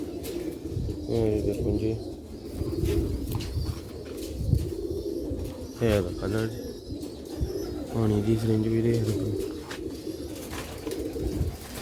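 Several pigeons coo close by in repeated throaty phrases, with short bird calls in between, while someone talks over them.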